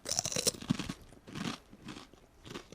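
Herr's sour cream and onion potato chips crunched up close, a cluster of crisp bites followed by several spaced, softer chewing bursts, alone and with no talk.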